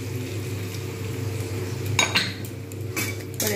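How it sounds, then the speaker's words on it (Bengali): A spoon clinks against a pan a few times over a steady low kitchen hum as a poppy seed paste curry with drumsticks and potatoes is stirred, the clinks faint and sparse. "পরে আমি একটু ভালোভাবে নেড়ে নেব।"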